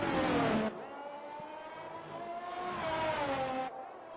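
A race car engine at full throttle in a sim racing game at the Imola circuit, its high whining pitch climbing through gears with a short break, loud and close, with no talk over it.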